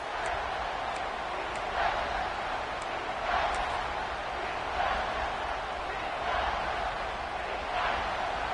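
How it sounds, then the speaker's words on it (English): A large stadium crowd at a college football game roars steadily as the defense lines up near the goal line, a loud, continuous wash of cheering with slight swells throughout. "this big crowd doing everything possible to inspire this defense down here near the goal line"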